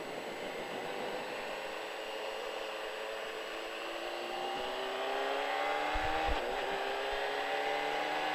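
A car pulls away on a race track to warm its tyres, its engine droning steadily and rising in pitch as it accelerates and grows louder, with no talk.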